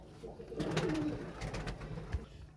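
Pigeons coo softly nearby, a low, rolling burbling call that swells and repeats over a couple of seconds, with faint background rustle and no talking.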